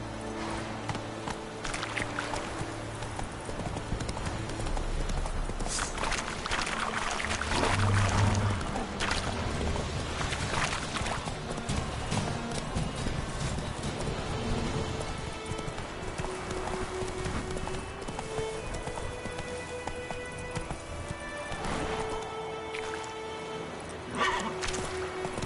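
Galloping horse in The Witcher 3, with a continuous rhythmic clip-clop of hooves over the game's ambient sound and occasional splashy, watery textures.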